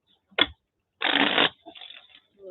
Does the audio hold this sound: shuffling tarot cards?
yes